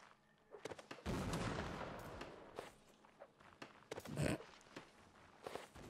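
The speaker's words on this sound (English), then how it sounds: "it's the artillery" Artillery fires in a video game, a heavy boom rolling out at about one second and another strong blast near four seconds, with smaller scattered thuds and clicks in between.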